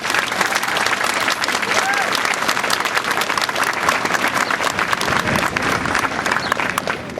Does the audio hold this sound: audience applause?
yes